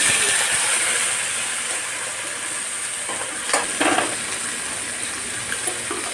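Drumstick and carrot pieces sizzle steadily in hot oil for a sambar, a continuous broadband frying hiss with a few brief bursts of louder crackle partway through; no one speaks.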